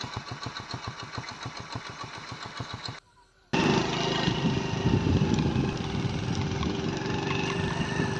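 A motorbike engine runs with a steady rhythmic putter, cuts out briefly, then returns as a loud, close, continuous roar while riding, with wind and road noise and voices partly audible beneath.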